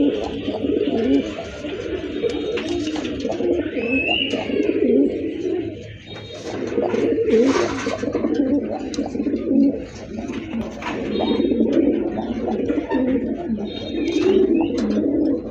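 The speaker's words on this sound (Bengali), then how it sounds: "আরেক জোড়া কবুতর, এটা হচ্ছে দেশি কবুতর" Several local pigeons coo repeatedly in soft, rolling, overlapping calls at close range, with faint background noise between the phrases.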